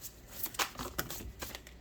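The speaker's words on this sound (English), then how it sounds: "I'm just shuffling a bit." Tarot cards shuffled by hand in a quiet room, with soft, irregular riffling and flicking bursts close by and no talk.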